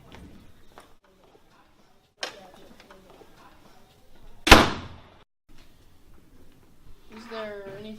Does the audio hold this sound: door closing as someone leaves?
yes